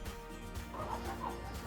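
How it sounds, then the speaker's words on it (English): A hen clucks and grumbles at someone collecting her eggs in a coop in Shekhawati. The sound is dense and close, a busy flock-like clucking over a low background hum, with no talk. "I'm not sure that hens care for humans stealing their precious eggs. One in particular lets me know what she thinks of that."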